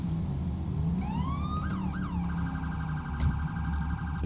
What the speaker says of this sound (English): For some reason, the sirens aren't loaded on it.